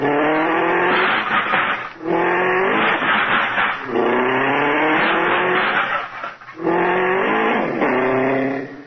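Hot rod car pulling away as a radio sound effect, with engine roars and squealing tires in three loud bursts separated by short gaps, the sound narrow and slightly boxy.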